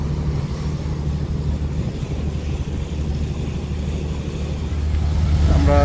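Passenger launch travelling along a narrow river channel, a steady low engine drone and throb that holds throughout and grows louder near the end, with a faint whine coming in at the close.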